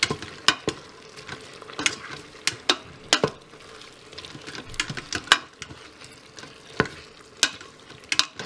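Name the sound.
stirring soy sauce into beef stroganoff in pressure cooker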